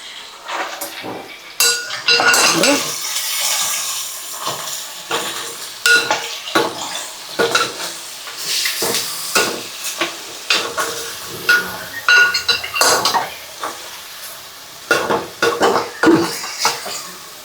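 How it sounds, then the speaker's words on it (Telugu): Chicken frying in masala for curry leaves chicken, with a spoon repeatedly scraping and clinking against the pan in an uneven rhythm over a steady close sizzle; no one speaks. "మసాలాలో చికెన్ బాగా వేయించుకోవాలి."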